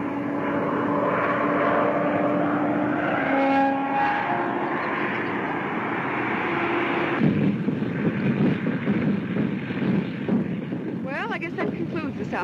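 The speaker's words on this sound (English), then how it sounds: "That boy sure can handle a plane." A propeller airplane in a 1934 crime film drones with a steady engine roar throughout, while voices speak over the engine noise.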